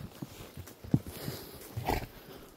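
Donkeys walking along a trail, their hooves making a few soft, irregular clip-clops over quiet outdoor ambience. No one speaks.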